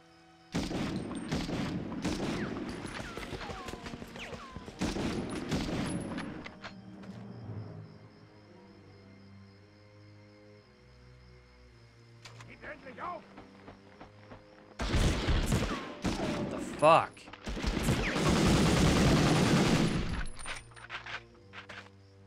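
In Medal of Honor, close-range gunfire comes in loud bursts of rapid shots, then a quieter stretch with scattered sounds, before more heavy fire returns near the end.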